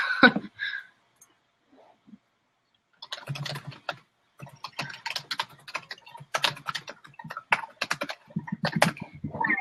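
Fingers type a message on a computer keyboard in quick, uneven bursts of close clicking keystrokes, with a pause early on before steady typing resumes.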